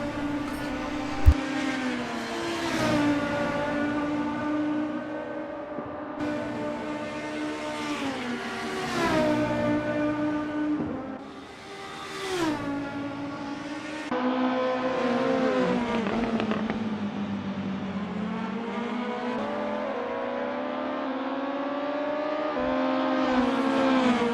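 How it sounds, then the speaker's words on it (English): Touring race cars from the 1995 World Touring Car Series battle around Road Atlanta, engines repeatedly screaming up through the revs and dropping on downshifts as several cars pass in waves, fairly distant, with no voices over them. "This is Bill's battle out on track right now."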